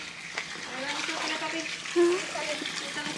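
Water poured out for geese, a wet splashing wash blended with voices talking over it.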